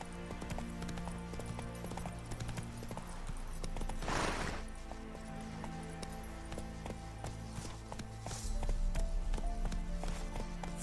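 Hooves of Geralt's horse Roach clip-clop at a steady galloping rhythm across Velen in The Witcher 3, close and clear over a low musical bed, with a brief rushing burst midway.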